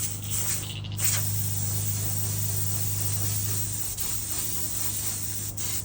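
Spray paint hisses from a can onto a fishing lure, a steady close whooshing spray lasting several seconds with a brief break near the start and near the end.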